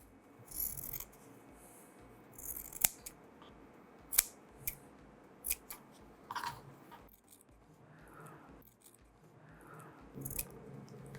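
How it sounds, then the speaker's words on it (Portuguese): Scissors snip through fabric pieces for a patchwork block along a marked cutting line, giving several close, crisp, separate cuts with quiet gaps between them in a hushed room. "Você vai cortar na linha riscada e vai deixar a linha de costura feita."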